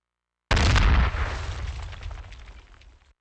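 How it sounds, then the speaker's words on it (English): The 'Bakudan' explosion effect from the wrestling game Fire Pro Wrestling World bursts in with a heavy boom after a short silence, then rumbles and crackles as it fades over about two and a half seconds. "Oh, that's the explosion."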